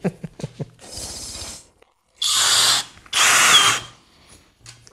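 Skil 3080 cordless screwdriver, switched to position 2, driving a 4x40 screw: two loud, steady whirring bursts of about half a second and a second each, close up, with softer mechanical handling noise before them.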